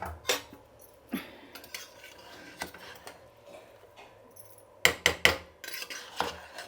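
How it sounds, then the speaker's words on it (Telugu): Pressure cooker lid being opened after cooking chicken biryani: scattered metallic clicks and clanks, a quick cluster of sharp metal knocks near the end, close and fairly quiet. "ఇప్పుడు కుక్కర్ మూత తీద్దాము"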